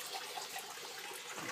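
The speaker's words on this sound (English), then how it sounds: "the water flows into this middle pipe" Steady, faint rushing of water overflowing through a pipe from a trout fish tank in an aquaponics system, an even hiss with no pauses.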